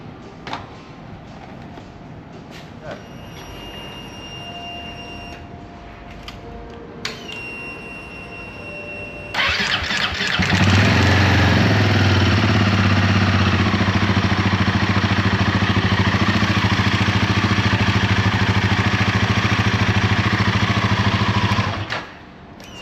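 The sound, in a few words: Royal Enfield Himalayan 450 engine started and run after service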